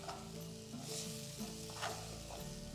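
Urad dal roasting in ghee on a low flame, giving a steady soft sizzle with occasional stirring scrapes, close and continuous throughout.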